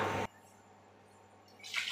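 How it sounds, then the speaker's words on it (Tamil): Water splashes and swishes as lentils (dal) are rinsed in a kitchen, in two short bursts at the start and end with quiet between, close and soft. "நல்லா பருப்பை சுத்தமாக கழுவி எடுத்துக்கலாம்"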